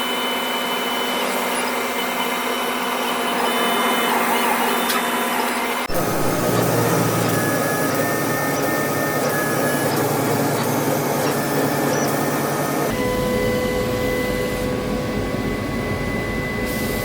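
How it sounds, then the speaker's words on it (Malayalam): A laser cutting machine working through a 2.5 mm bridge plywood sheet: a constant loud whirring hum with fan noise, shifting in tone in distinct sections as the cut moves, and faint high whines throughout. "നമ്മൾ ഡയറക്റ്റ് ലേസർ മെഷീനിൽ ഫയൽ സെൻഡ് ചെയ്തിട്ട് നമ്മൾ കട്ട് ചെയ്യും"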